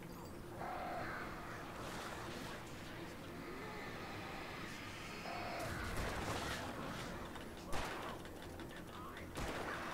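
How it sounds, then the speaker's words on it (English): An attacking swarm of birds in Alan Wake Remastered gives harsh crow-like cawing and flapping amid game noise and dull thumps, with a sharp hit late on and someone talking throughout. "The birds! The sodding birds!"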